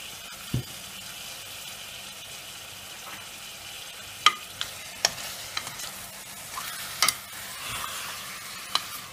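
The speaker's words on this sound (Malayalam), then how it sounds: "എന്നിട്ട് ജസ്റ്റ് ഒന്ന് ഇളക്കി കൊടുക്കുക." Mutton with turmeric, coriander and pepper powder being stirred in a pan for a Malabar mutton kuruma. A soft steady sizzle runs throughout, with scattered sharp scraping clicks from the spoon against the pan.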